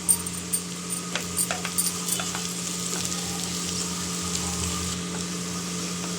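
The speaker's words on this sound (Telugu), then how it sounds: "ఇలా మంచిగా ఫ్రై అయిన తర్వాత దీంట్లో మన కర్రీ లీవ్స్ అనేది వేసి ఒక 2 మినిట్స్ ఫ్రై చేసుకోవాలి" Curry leaves frying in hot oil in a pan while making paneer bhurji: a steady close sizzle with crackling pops and the scrape of stirring, heard alone.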